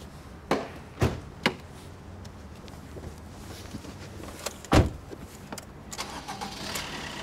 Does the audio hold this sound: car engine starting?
yes